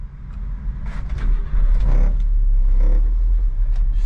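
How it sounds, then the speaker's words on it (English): A Subaru kei truck engine starts and settles into a steady, loud, low rumble close by, the level rising sharply about a third of the way in and holding. "I'm going to grab the keys and start it. Door chime works."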